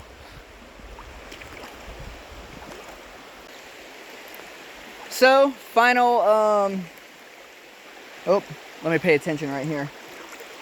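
A creek flows with a steady broadband rush of water throughout, while a person talks over it in two short bursts.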